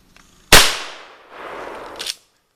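One sharp blast from a 12 gauge shotgun firing a homemade less-than-lethal round, close and loud, followed by a short rustling rattle and a second smaller knock of the impact.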